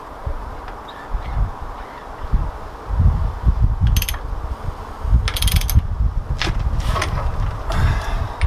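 A 1972 VW Beetle engine being hand-cranked to start: rough mechanical ratcheting and grinding turns in uneven bursts, with sharp metallic clanks and squeaks at close range and no voices.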